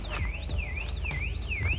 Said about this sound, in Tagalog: So, yan ho, alarm na yan.